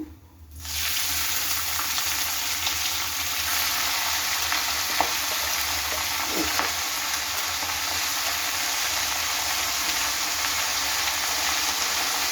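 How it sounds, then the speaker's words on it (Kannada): Moringa leaves fry and wilt in a little oil in a pan for a ragi rotti recipe, a steady close sizzle throughout with faint stirring scrapes and no talk. "ನುಗ್ಗೆ ಸೊಪ್ಪನ್ನ ಚೆನ್ನಾಗಿ ಬಾಡಿಸ್ಕೊಳ್ಳಿ"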